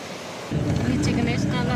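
Holy glacier water splashes from a pipe on the Adi Kailash mountain pilgrimage route, a loud steady rushing gush that starts abruptly and continues close by, with a voice speaking over it.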